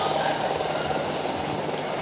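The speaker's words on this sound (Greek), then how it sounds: "Κάποιος θα πέσει από το ελικόπτερο, Γιάννη." A helicopter at an air show over the sea drones steadily with a loud, dense rotor and engine roar that holds constant for the whole stretch, filling the foreground.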